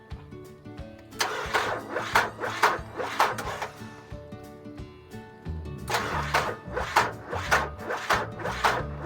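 A 24-volt truck engine is cranked after a jump start, with repeated bursts of rhythmic starter grinding separated by short pauses, close and fairly loud.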